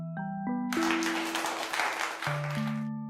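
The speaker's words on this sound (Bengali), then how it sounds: "সবাই রিয়ার জন্য একটা জোরে হাততালি দাও।" A class of students applauds a classmate, a dense burst of many hands clapping at moderate volume, with sustained synthetic tones playing underneath and no talk.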